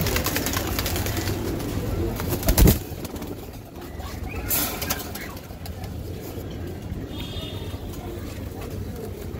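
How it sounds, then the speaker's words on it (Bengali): Old-breed chharachhari-line giribaj pigeons coo and rustle nearby in a loft, soft low murmurs with a brief flutter of wings, under background chatter and faint traffic. "এটা হলো ছাড়াছাড়ি ব্লাডের কবুতর"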